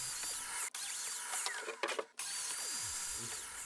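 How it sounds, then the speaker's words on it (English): A domino joiner plunges mortises into the ends of cabinet top, base and fixed shelf panels and the cabinet sides, a steady close whining motor broken by a few short pauses and rising and falling cutting bursts. "I can move on to cutting the domino mortises, first on the ends of the top, base and fixed shelf"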